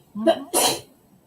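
One quick, close sneeze: a short breathy intake followed by a sharp burst, then silence.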